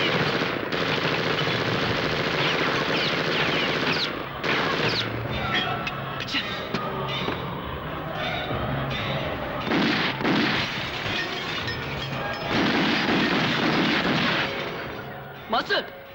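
Rapid bursts of automatic gunfire crackle through a film shootout near a truck, dense and loud with repeated volleys, while shouted voices cut in and out over the shooting.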